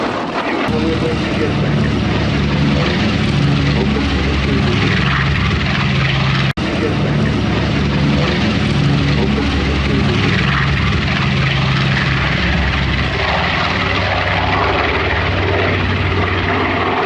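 Three propeller aircraft fly in formation at the Duxford air show, producing a loud, sustained engine drone with throbbing low tones, while an announcer speaks over loudspeakers beneath the noise.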